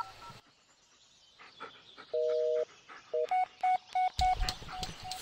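Phone keypad tones in the Blair Witch video game: a longer beep followed by a rapid series of short, evenly spaced dialing tones, then a harsh burst of noise at the end, all fairly quiet.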